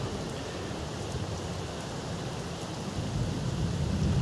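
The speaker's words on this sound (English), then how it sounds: "And oh my god, the Azores weather. Start raining." Rain beginning to fall on farmland in the Azores, a dense even hiss of drops with a low rumble underneath that grows a little louder toward the end, no voices.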